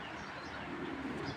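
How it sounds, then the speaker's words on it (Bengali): A female racing pigeon coos softly and close by, a low, rounded murmur that swells slightly toward the end against a steady background hiss. "দেখেন মাশাআল্লাহ, এটা হলো মাদি কবুতর।"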